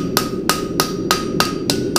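A farrier's hammer strikes hot steel bar on an anvil seven times at a steady, brisk rhythm, tapering the bar for a straight-bar horseshoe; each blow rings sharply and close, with no talk.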